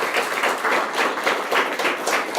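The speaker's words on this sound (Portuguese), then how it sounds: "Vamos dar uma salva de palmas para o Senhor." A church congregation breaks into steady, dense applause, many hands clapping together in a sustained wash from within the room.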